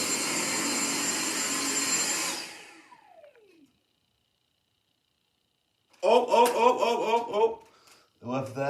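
A Dyson stick vacuum cleaner runs loudly for about two seconds, then winds down with a falling whine into silence, followed by voices talking and laughing.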